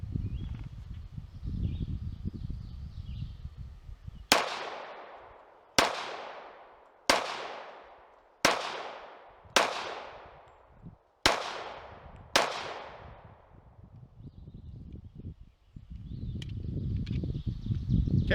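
Seven sharp gunshots from a Tisas Raider pistol, loud and close, fired in an irregular rhythm about a second apart, each with a ringing outdoor decay, between stretches of low background rumble.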